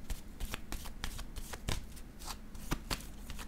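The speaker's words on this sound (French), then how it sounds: "Attendez, je vais piger une autre carte" Tarot cards riffled and handled close up, a quick run of papery flicks and slaps at an uneven rhythm, with no talking.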